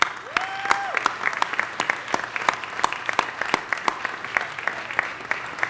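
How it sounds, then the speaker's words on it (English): Sustained clapping from the audience at a Los Angeles city council special meeting, a dense even patter of many hands lasting several seconds, with a brief electronic tone near the start. "we really need to give Mr. Krikorian another round of applause"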